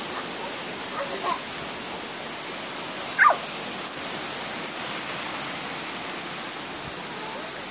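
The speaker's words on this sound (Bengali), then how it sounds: "বৃষ্টি হবে সুপার বৃষ্টি হচ্ছে" Heavy rain pours in a steady, dense hiss during a stormy, windy day, with a brief faint bark or voice rising once above the downpour.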